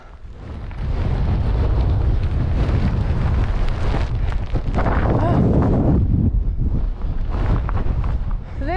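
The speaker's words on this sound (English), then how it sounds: "This wind is crazy" Strong gale-force wind on Glyder Fawr, a mountain, buffets the microphone in a loud, continuous roar with gusting surges throughout, close and overwhelming.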